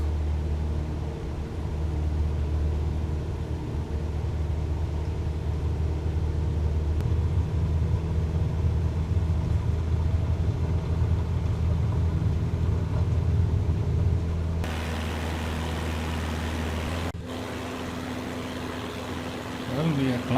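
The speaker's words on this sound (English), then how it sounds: "So let's get the engine going here. Full throttle, release brake," A Cessna 172 engine in MSFS 2020 runs up for takeoff, a steady droning hum that holds for most of the stretch before the tone shifts and lightens near the end, no voices heard.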